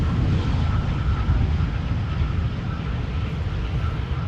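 An Austrian-registered airliner landing at Amsterdam Schiphol Airport, a steady low engine roar rumbling at a distance with little rise or fall and no talking.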